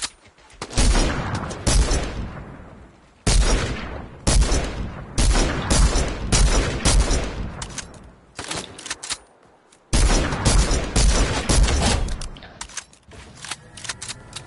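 Rapid bursts of infantry rifle gunfire in the Fortnite video game, loud and close, firing in long dense volleys separated by brief gaps, with no talking.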